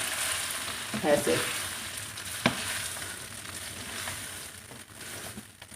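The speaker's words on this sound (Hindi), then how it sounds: "ये डाल के इसको हमने बस 1 मिनट चम्मच चलाना है इसमें" Sweet vermicelli frying in a pan while a spoon stirs it, giving a soft steady sizzle with occasional scraping clinks, and a brief word spoken over it.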